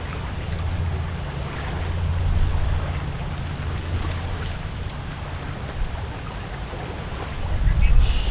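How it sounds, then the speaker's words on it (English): Steady wind buffeting over choppy water, with low rumbling gusts and lapping waves throughout; no voices. "The wind is too much for this"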